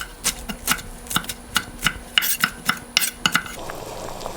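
Chopped spinach is stirred into a pot of lasagna soup, and a spoon clinks rhythmically against the pot in quick bright taps over a soft simmer, close up, with no voices.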